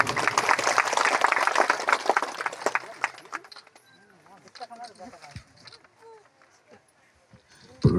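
An audience claps at a police outreach event in Nagepalli, with dense applause for about three seconds that then thins out and gives way to scattered voices and a speaker talking.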